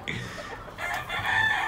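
Lacy Roundhead gamefowl hen and rooster, a short, nearby clucking and crowing vocalization, brief and moderately loud.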